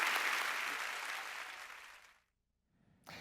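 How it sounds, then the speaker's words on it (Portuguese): Warm applause from a church audience for Jesus at the close of a religious broadcast segment, a dense wash of clapping that fades out after about two seconds, followed by silence and a faint new sound at the end. "E vamos dar para Jesus uma calorosa salva de palmas."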